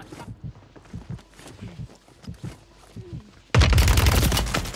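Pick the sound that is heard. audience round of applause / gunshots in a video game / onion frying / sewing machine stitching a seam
gunshots in a video game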